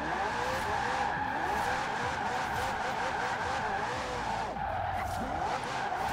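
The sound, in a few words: car drifting with tire squeal in Forza Horizon 4 video game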